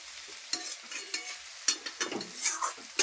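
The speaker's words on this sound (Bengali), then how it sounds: "আমি এখন করলা ভাজা দিচ্ছি, একটু নেড়ে চেড়ে দিচ্ছি।" Bitter gourd and potato frying in an open pan, a steady sizzle with repeated scraping stirs from a spatula, close and fairly loud.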